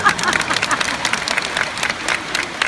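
An audience at a Buddhist teaching session in Singapore breaks into applause, a dense, continuous patter of many hands clapping close by and at steady loudness throughout.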